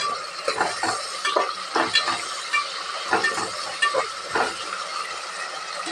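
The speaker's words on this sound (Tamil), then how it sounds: "2 மீடியம் சைஸ் தக்காளி போட்டுக்கலாம். வதக்கிடலாம்." Tomatoes and green chillies sauté in a pan, giving repeated close scraping strokes of a spoon in a loose rhythm over a continuous light sizzle.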